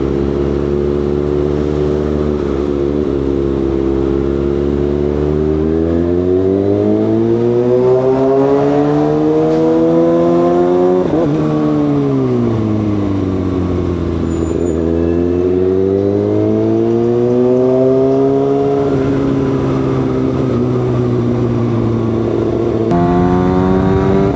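A big bike motorcycle, called the C6R, riding the Marilaque highway, its engine held below 6,000 RPM and rising and falling steadily through the ride. Strong wind rushes over it continuously, loud and close, with no talk.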